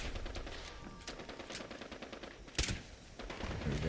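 Sniper rifle fire in a video game: a few sharp, separate shots ring out over steady background game noise, with one louder crack near the middle, fairly quiet overall.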